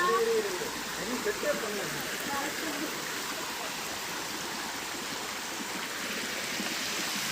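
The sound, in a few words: waterfall, water falling in Valparai hills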